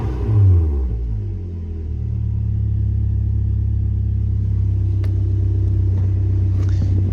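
A BMW E36 Compact with an M4x four-cylinder engine, freshly fitted with a new knock sensor and spark plugs, runs at a steady, smooth idle: a loud, even drone close by after a brief initial swell, with no talking.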